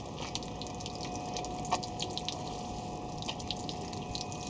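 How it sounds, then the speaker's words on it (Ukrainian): Steady water running from a YD104 portable car shower, with faint splashing and a few drips, a constant hiss with a thin pump whine underneath. "лється вода"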